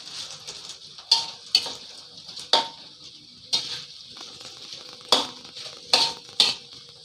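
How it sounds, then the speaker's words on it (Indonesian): Sliced yellow onions sauté in a pan for nasi kebuli, a steady soft sizzle broken by about eight sharp scraping strokes of a stirring utensil against the pan, close and clear with no talk. "Kita tumis bawang bombay sampai dengan warna agak kecoklatan dan berbau harum ya."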